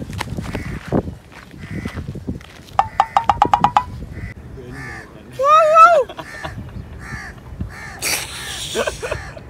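A crow caws loudly nearby in a short burst of harsh calls, with other bird sounds, knocks and scattered background noise around it.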